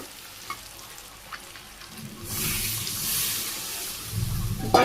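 Water poured into a pan of frying chicken curry made with free-range country chicken, a quiet sizzle giving way to a sudden louder surge of hissing and bubbling, then faint stirring knocks close by.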